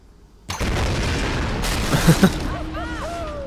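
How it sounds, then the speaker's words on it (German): A sudden loud boom in the video game Tomb Raider bursts in and rumbles on, with crackling debris and a few sharp pops, followed by whistling, sweeping tones as the blast fades. "werden wir doch mal den ganzen Kram jetzt zum Explodieren bringen"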